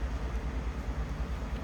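A 2011 Cadillac DTS Platinum's 4.6-litre V8 idles smoothly under the hood, a steady low rumble with even pulses, close and alone with no talk.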